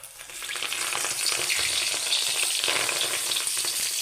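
Fish wrapped in taro leaves frying in hot oil in a pan, giving a steady, dense hiss that swells slightly after the first second and holds loud and close throughout, with no talking.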